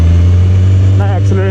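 A superbike engine hums steadily at a loud, low pitch as the rider pulls in the clutch to downshift, and the tone wavers near the end.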